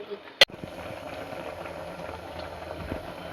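A pot of dal with greens, garlic and turmeric bubbles as it boils, a close continuous simmering hiss with a sharp clink near the start, a voice speaking over it.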